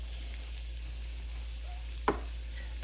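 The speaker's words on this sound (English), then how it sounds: "I will get a saute pan on with a little bit of oil and then begin sweating some onions." Onions cut brunoise sweating in a little oil in a saute pan give a steady, low sizzle close by, with one brief clatter of a utensil near the end.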